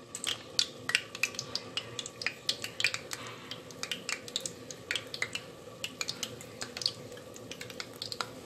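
Balls of flour dough frying in hot oil give off a close, continuous crackle of sharp sizzling pops and spits, irregular and fairly quiet, with no talking.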